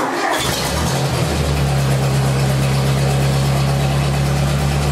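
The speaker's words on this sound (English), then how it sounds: "This is basically a cold start, and let's just see if it starts." A 1964 Ford 4000 tractor engine cold-starts with a brief cranking burst, then catches and settles into a loud, steady low idle that runs on continuously.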